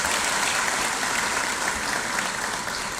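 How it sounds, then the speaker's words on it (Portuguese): Audience applause fills a hall at the swearing-in ceremony of the Angolan Bar Association's governing bodies in Luanda: dense, steady clapping from many hands, held at an even level throughout with no talk over it. "Uma salva de palmas neste momento"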